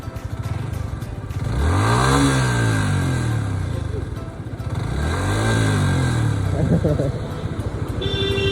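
A stock-exhaust Kawasaki Z900 motorcycle revs twice nearby, each throttle blip rising and falling in a smooth arc over a steady idle, loud and close.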